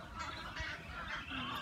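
Australian white ibis calling in a city riverside parkland in Brisbane, a hoarse honking chorus running continuously at moderate distance with no talk over it.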